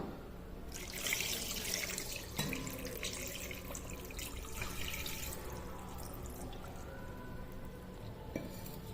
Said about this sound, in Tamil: இது மூழ்கிற அளவுக்கு தண்ணீர் சேர்த்துக்கலாம்